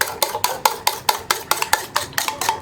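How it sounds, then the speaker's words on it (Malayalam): Eggs being beaten with a fork in a bowl, a quick even run of about a dozen sharp clicking taps close up, with no talking. "നമ്മളൊരു ഫോർക്ക് യൂസ് ചെയ്തിട്ട് മുട്ട നന്നായിട്ടൊന്ന് ബീറ്റ് ചെയ്തെടുക്കുക"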